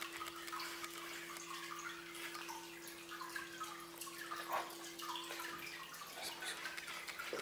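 Water circulates in a 1000-litre Malawi biotope aquarium as a soft, steady trickling and bubbling with a constant low hum from equipment, faint and continuous throughout.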